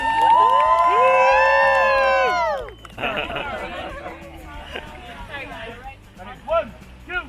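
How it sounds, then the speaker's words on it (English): A crowd at a Hawaiian luau cheers and whoops loudly in a sustained burst of shouting that drops off abruptly, followed by scattered chatter and voices. "Keep those hands clapping and make some noise for our beautiful"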